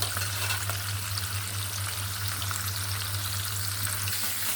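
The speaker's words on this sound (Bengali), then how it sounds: "মাছটা এখন উল্টিয়ে দিব মাছ উল্টানোর সময় হয়ে গেছে তাহলে পুড়ে যাবে" Hilsa fish fries in a pan with a steady, close, even sizzle of hot oil over a low background hum.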